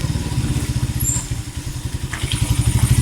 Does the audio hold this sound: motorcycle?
yes